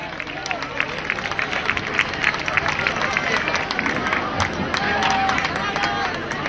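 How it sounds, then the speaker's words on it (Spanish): A crowd at an evening singing competition festival in Guacarhue applauds, with steady clapping mixed into a murmur of voices and crowd noise that carries on throughout. "Le damos un fuerte aplauso"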